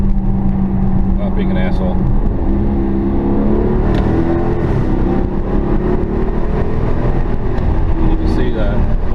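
2016 Dodge Challenger on Atturo AZ850 tires rolling over a bumpy turn, a steady loud engine and road drone with dull thumps from the bumps, with someone talking over it throughout.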